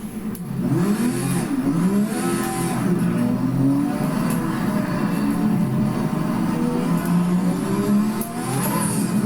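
A 1,000-horsepower Lotus 98T race car engine in the video game Project Cars 3 revs and roars continuously, pitch rising and falling with gear changes, loud and steady throughout with no talking.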